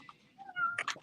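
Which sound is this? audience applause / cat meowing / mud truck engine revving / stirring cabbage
cat meowing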